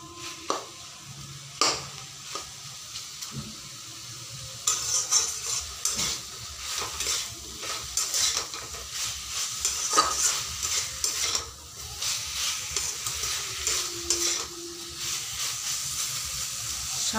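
Black mustard seeds stirred and lightly fried in a pan, giving a steady soft sizzle and hiss with scraping stirring strokes throughout, alone without talk.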